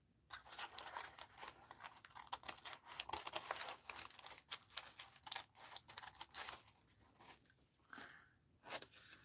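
Scissors snip through paper in an art journal. The cuts come close and quiet as a rapid run of crisp, crinkly snips and rustles, with short pauses and no voices.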